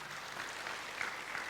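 An audience at a church healing service applauds with steady, faint clapping throughout, with no voices over it.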